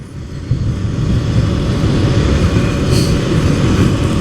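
Kawasaki KLX300 dual-sport motorcycle at wide open throttle, a steady loud engine drone with heavy wind rush that swells after the first half second and holds constant, no voices.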